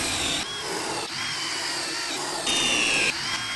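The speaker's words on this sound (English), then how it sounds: "Now you want to drill the hole about 4 to 6 inches deep." A power drill bores holes into a wooden stump, its steady whine running continuously and close, with a brief higher-pitched surge near the end.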